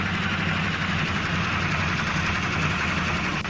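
A train engine idles in the Trainz 2019 simulator, a steady low diesel rumble with a constant mechanical throb that holds evenly throughout, with no voices over it.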